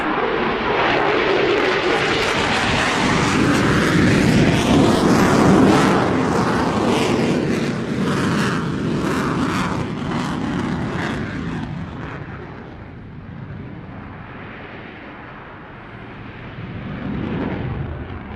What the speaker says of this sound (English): Advanced flight controls and powerful engines allow the F-22 to perform at 9 times the force of gravity.